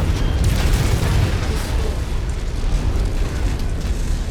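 A mech blows up in MechWarrior 5: Mercenaries with a deep, sustained rumbling blast and heavy crackle that fills the whole stretch, loud and close, with no pauses.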